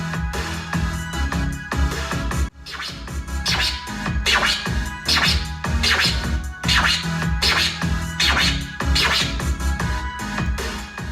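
Baby scratches on a DJ turntable, one per beat over a backing track: a loud, rhythmic series of whooshing back-and-forth record scratches that fall steadily in time with the drum pattern, with no voice.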